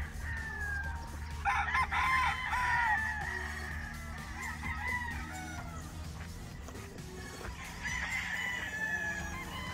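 A straight-breed gamefowl rooster crows twice, moderately distant, over a low, steady background hum and faint farm noise.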